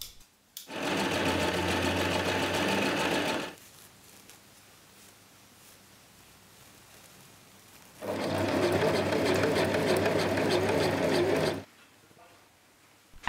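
A sewing machine stitches big puff sleeves cut from a pink curtain, running in two steady, close bursts of about three seconds each with a quiet pause between them.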